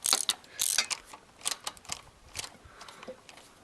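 A socket ratchet with extensions loosens the lower front valve cover stud on a Mazda B4000 (Ford Ranger), producing close, crisp clicking in short bursts separated by brief pauses.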